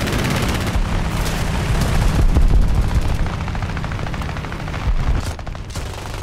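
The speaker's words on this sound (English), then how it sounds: "Couple shots." A Fokker D.XXI fighter in War Thunder air arcade fires its guns in dense, rapid bursts, with a heavy continuous rattle and booms layered over the roaring aircraft engine.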